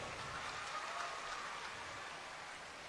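Audience applause at a government benefits distribution event in Koderma, Jharkhand: a steady, dense wash of clapping held at an even level throughout, with no voices over it.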